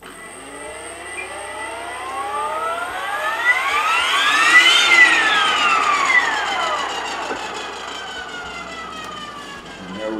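Align T-Rex 550 RC helicopter on a quick spin-up: a whining electric motor and rotor tone that climbs steadily in pitch, peaks, then falls away over several seconds, steady and fairly loud with no voices.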